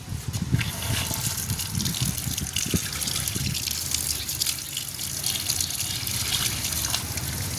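Steady rushing water runs throughout, a continuous broadband gush like a strong flow pouring from a pipe into a tank, with some low churning underneath.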